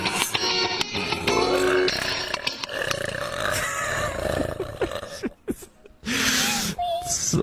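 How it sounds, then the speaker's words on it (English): A long, loud burp rumbles for several seconds, followed by a shorter burst of noise near the end, with no speech over it. "I didn't mean to burp at you like that."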